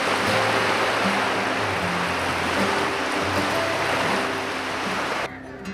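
Steady, loud surf from sea waves along the seaside in Colombo, Sri Lanka, a continuous broadband wash with no talk, dropping off abruptly near the end.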